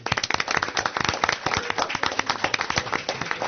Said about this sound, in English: And I'd like to give applause for Duke Torres